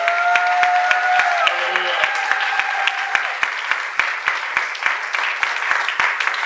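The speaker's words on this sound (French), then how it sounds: "est-ce qu'on pouvait acclamer très fort pour la parole du Seigneur?" A church congregation applauds loudly and steadily, a dense wash of many clapping hands filling the space with sharp individual claps standing out, while a sustained tone fades early on.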